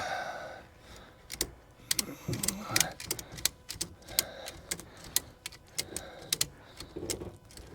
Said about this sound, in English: I might not be able to do this with a ratchet strap.